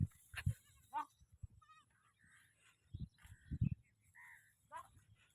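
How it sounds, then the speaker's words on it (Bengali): Several goats on a farm bleat in short, overlapping calls at moderate distance, some rising and wavering, with quiet gaps and a low background rumble between them. "দেখুন অনেকগুলো ছাগল আছে।"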